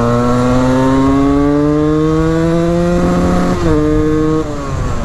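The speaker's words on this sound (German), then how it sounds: "Jetzt zeige ich euch den Drehzahlbegrenzer mal kurz." Motorcycle engine, a supermoto ridden on the road, revving hard and loud up to its rev limiter with a steady rising drone that holds briefly, then drops back.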